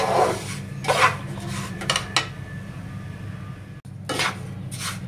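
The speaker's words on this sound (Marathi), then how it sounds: "रवा असं छान गोल्डन असं भाजून घ्यायचंय. मीडियम आचवरती भाजून घ्यायचंय." Semolina roasting in a pan over medium heat gives intermittent scraping and rasping strokes of a spoon against the metal, loud bursts separated by quieter pauses.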